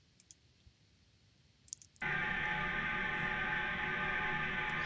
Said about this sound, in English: This is a metal plate which is being tested for its modal behavior